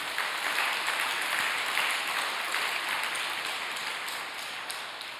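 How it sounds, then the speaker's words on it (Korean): An audience at a prayer meeting applauds in thanks, with dense, sustained clapping from many hands that stays even and fairly loud before tapering slightly toward the end. "우리 감사의 박수 올려주시기 바랍니다"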